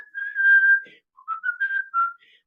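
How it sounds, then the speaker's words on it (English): Someone whistles a short tune up close, a sustained note followed by a few quick, wavering phrases, clear and alone. "I'm whistling. I'm not singing."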